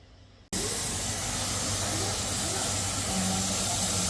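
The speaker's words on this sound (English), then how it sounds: "hope you guys can see the steam coming up" Steam hisses from a pressure canner holding raw potatoes, bursting on suddenly after a quiet moment and continuing as a loud, steady, close broadband hiss.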